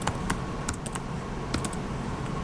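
Sharp, irregular keystrokes on a computer keyboard as code is typed in Visual Studio 2022, close and clear, with short pauses between bursts and no voices.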